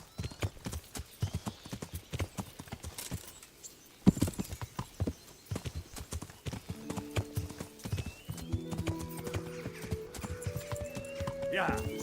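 Horse hooves clip-clop steadily on a road in the medieval game Kingdom Come Deliverance, a brisk close rhythm running throughout while someone talks over it and a low musical drone rises in the background.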